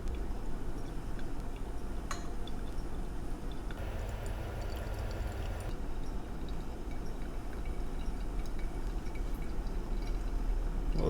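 Hot water pours in a thin steady stream over ground coffee in a Kalita Wave pour-over dripper, a soft continuous hiss that swells slightly in the middle, faint and close with no talk.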